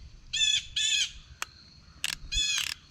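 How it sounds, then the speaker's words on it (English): A blue jay calls in harsh, nasal squawks, several short bursts in a row, with a few sharp clicks between over faint outdoor rumble. "I hear blue jay."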